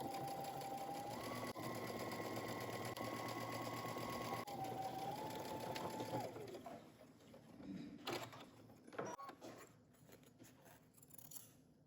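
A sewing machine runs a long continuous line of top stitching on a McCall 8514 jumpsuit, then stops with scattered handling clicks and faint background bird cooing.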